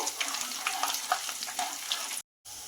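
Curry leaves and dried red chilli pieces frying in oil for tomato pickle, a close crackling sizzle with pops and stirring scrapes, cut by a brief silent gap near the end.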